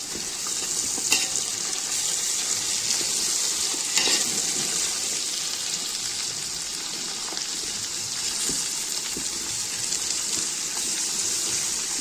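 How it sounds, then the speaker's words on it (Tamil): Green chillies and onions sautéing in a large pan for a two-kilo chicken biryani, giving a steady, loud sizzle of oil throughout, with occasional stirring scrapes. "இப்போ எல்லாமே இது நல்லா வதங்கி வரட்டும் நல்லா வதங்கணும்"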